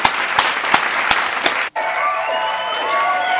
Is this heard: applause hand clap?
yes